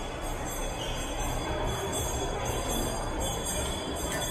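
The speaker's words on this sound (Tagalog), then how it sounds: "Yun, may tren nga. Maingay eh." Train passing close to a shopping mall in Quezon City, heard as a steady, loud roar of rumble and rail noise that stays at the same level for the whole stretch.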